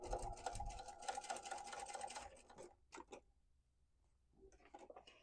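Close and fairly loud, a sewing machine stitches a quilted market tote in a continuous buzzing run of about two and a half seconds, then stops, leaving a few scattered clicks and handling sounds.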